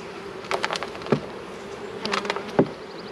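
Honey bees buzz around an open hive over a steady low drone, with a few brief knocks and taps from the hive box.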